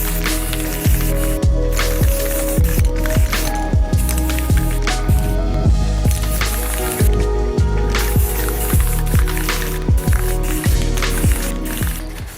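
Deep blue spray paint goes onto a PC case in repeated short hissing bursts from an aerosol can, each spray close and loud, with brief pauses between passes and no talking.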